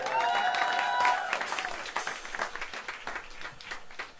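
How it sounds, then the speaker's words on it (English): Audience applause at Smalls Jazz Club in New York, a full room clapping and cheering for the pianist of a live quintet, loud at first after a held note fades, then thinning out into scattered claps. "Please give a big round of applause on the piano to Steve Ash, everybody."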